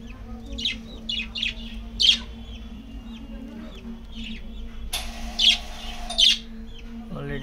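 Pet budgerigars and their chicks in a home bird setup give repeated sharp chirps and squeaky calls, close and fairly loud, with a brief denser burst of chattering partway through over a steady low background hum.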